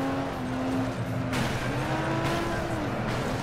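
A race car spins out during a fairgrounds race in the FlatOut video game, with a sustained engine drone and skidding tire squeal, loud and continuous throughout.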